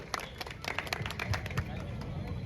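Audience applause for Rajubhai and Jaychandbhai at a gathering, a dense run of handclaps mixed with crowd murmur and babble, steady throughout.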